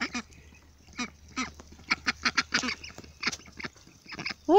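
Several Rouen ducks quack in loud, nasal bursts, some quick runs of calls clustered together, close by with short pauses between.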